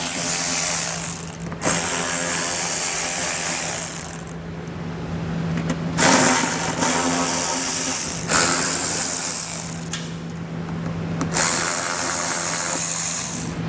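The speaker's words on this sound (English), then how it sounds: "So go ahead, grab our socket and get all these pulled out." A socket driver backs out 8 mm head screws from the front fascia of a 2020 Mini Cooper, a loud, close mechanical whirring that starts and stops in repeated bursts of a couple of seconds each.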